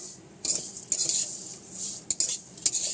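Bottle gourd leaves fry in mustard oil in a pan while being stirred, making close metallic scrapes and clinks of a spoon against the pan in short bursts over a soft hiss, with no talking.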